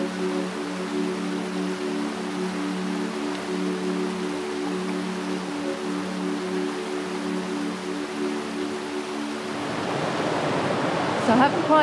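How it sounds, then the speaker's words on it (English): Small waterfall cascade in the Springbrook rainforest, a steady soft broadband rush of falling water heard up close, with a faint low hum under it and some rustling near the end. "I saw this nice little cascade off to the side here"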